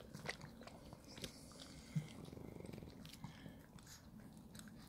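A Shih Tzu dog eating food, with faint, close wet chewing and small bites in a quick irregular rhythm, quiet throughout and no talking.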